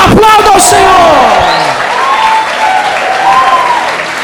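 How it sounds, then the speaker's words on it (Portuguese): A church congregation bursts into loud, sustained applause with scattered whoops and voices cheering over it, the clapping dense and close throughout. "Aplauda ao Senhor!"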